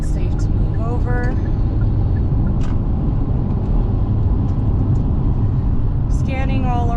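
Car on the interstate merging into traffic, a constant loud road rumble and engine noise from inside the cabin with faint blinker-like clicks, under a voice talking.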